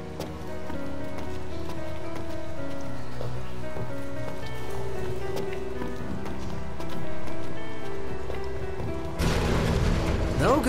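Continuous rain patters steadily alongside soft tonal music in the video game Final Fantasy XV, ending with a louder burst of noisy splashing near the close.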